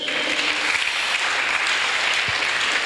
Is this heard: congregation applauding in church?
yes